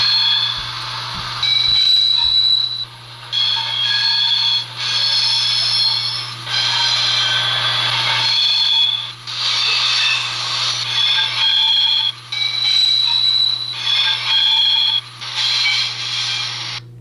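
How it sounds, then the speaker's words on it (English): Flange squeal effect from an ESU sound decoder in a Rapido GMD-1 model locomotive: loud, high-pitched metallic squeals in repeated bursts over a steady low electronic hum, with no talking. "function 3 is flange squeal."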